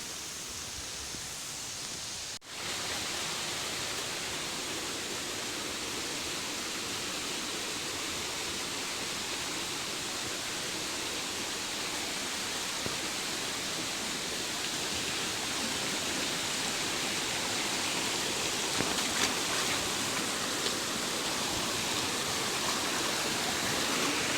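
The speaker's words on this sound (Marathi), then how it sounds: "हे कंद आता आपण धुवून घेऊ" Amar kand tubers, the roots of an Ayurvedic medicinal plant, are rinsed under running water, which makes a steady, close rushing and splashing that fills the whole stretch without a break. No one speaks.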